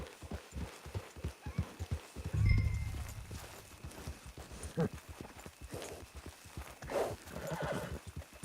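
In Red Dead Online, a horse clops along at a camp with steady, close hoofbeats, a loud neigh bursting out partway through before the footfalls carry on.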